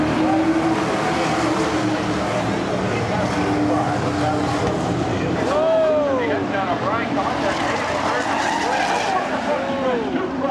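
NASCAR Whelen Modified race cars roar around Seekonk Speedway in a dense, sustained pack, engine notes rising and falling with several sweeping pitch glides as cars pass, heavy continuous racing noise throughout.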